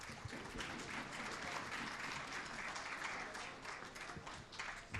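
Sustained applause from a live audience at a news stage event honouring rescue workers, dense steady clapping filling the whole stretch at fairly even loudness, with no voices over it.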